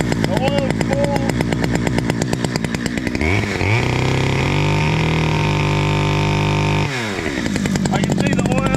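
Small Stihl 009L chainsaw running close by, its two-stroke engine idling with a fast buzzing pulse, then revving up to a steady high whine for a few seconds before dropping back to idle.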